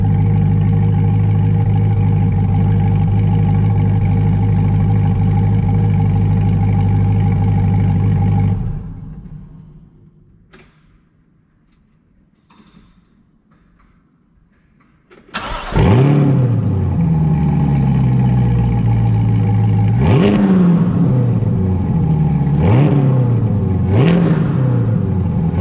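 A loud engine idles, then cuts out to near silence. Several seconds later a 2020 Chevrolet C8 Corvette Z51 engine fires up and revs sharply two or three times.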